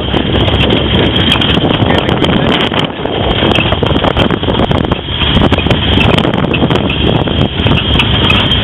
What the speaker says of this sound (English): It's also really, really windy.